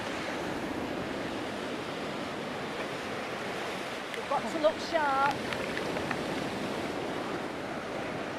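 Sea waves rolling onto the beach at Cromer, Norfolk, a steady broadband wash of surf with some wind noise, with people talking briefly in the middle.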